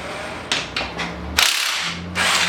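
An impact wrench on a bolt of a Nissan 350z engine during disassembly, several short sharp hammering bursts with pauses between them, loud and close against a quiet workshop, no talking.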